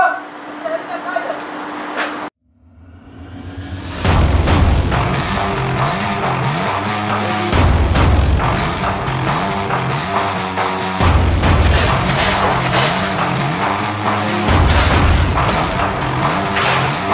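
Paintball guns fire in bursts at an outdoor paintball park in Sharjah, loud sharp pops and booming shots repeating over several seconds with players shouting over them.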